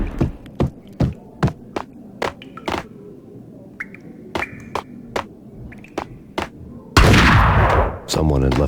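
Sharp, loud single gunshots from Max Payne, about a dozen reports spaced irregularly, then a sudden sustained roar of heavy sustained noise near the end.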